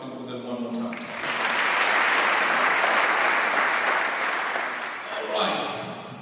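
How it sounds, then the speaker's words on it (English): A crowd at a speaking event breaks into loud applause that swells to a full roar of clapping, holds steady, then thins out toward the end as a voice returns. "let's return the favor by clapping for them one more time."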